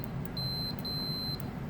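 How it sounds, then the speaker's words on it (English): A multimeter set to its resistance or continuity range beeps as its probes test solder connections on pins of a PCB soldered with a hotplate. Two steady high-pitched beeps, the second longer, sound over a low background hum. "when it is shorter, it will beep, so you will know it is connected or not"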